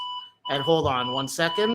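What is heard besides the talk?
alarm beeping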